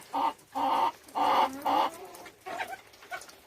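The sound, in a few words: chickens clucking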